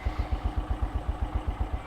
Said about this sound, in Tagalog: medyo naririnig ko yung makina ni Miko. Parang may ginigiling sa loob